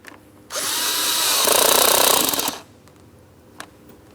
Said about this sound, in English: While holding pressure, I'm going to tighten my clamp.